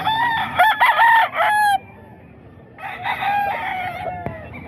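A young rooster, a stag in a Philippine fowl sale, crows loudly and close by, with two strong crows separated by a brief quiet gap and nobody talking.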